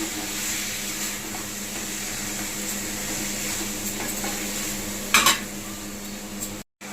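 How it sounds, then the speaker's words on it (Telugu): Andhra-style chicken curry is stirred after salt goes in, a continuous low sizzle with a few spoon scrapes and one louder metallic clatter near the end. "ఉప్పు వేద్దామండి. బాగా కలుపుకోవాలండి."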